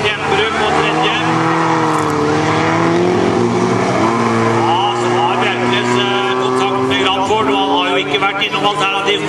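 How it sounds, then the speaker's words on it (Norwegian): Rallycross cars race hard around a track during a heat at Kongsberg, engines droning and shifting pitch continuously and loudly, with an excited commentator talking over the racing throughout. "Og Kramford er skikkelig oppe og kjører nå"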